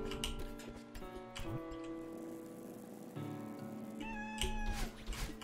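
A cartoon cat in the video game Strawberry Jam meows repeatedly as it is petted, bright tonal mews over a ticking clock-like beat and game music.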